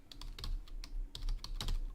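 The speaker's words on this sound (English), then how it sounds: "typing the word data frame" Quick bursts of keystrokes on a computer keyboard, close and crisp, with irregular clicks and short pauses between clusters over a low hum.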